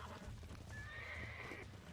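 Horse whinnying over steady clip-clopping hooves in the Red Dead Redemption video game, the neigh a long rising tone in the middle of the two seconds, with no talk.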